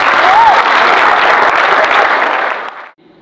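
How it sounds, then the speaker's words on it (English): At a football club presentation evening, a crowd applauds young players in a loud, even wash of clapping that lasts nearly three seconds before stopping sharply. "giving them a quick round of applause to acknowledge the year they had"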